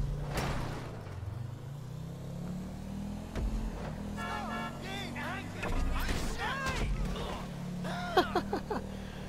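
Video game car in GTA 5 driving during a race, a steady low engine drone running throughout with faint shifting tones, while a person talks over it.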